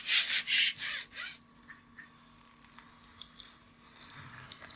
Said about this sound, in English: using a brayer, adhere the hook tape on the mat